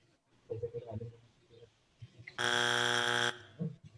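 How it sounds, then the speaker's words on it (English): A game show wrong-answer buzzer sounds once in a harsh, loud burst of about a second, set between bits of talk from players and the host. "That's why you got that buzzer."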